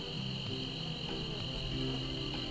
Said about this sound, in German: Hier sind Bienen.